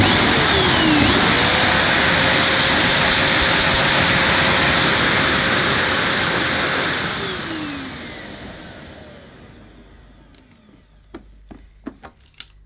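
Moulinex Powerstar cylinder vacuum cleaner running in blowing mode, a loud steady roar whose pitch dips slightly before it winds down and fades, followed by a few light clicks and taps.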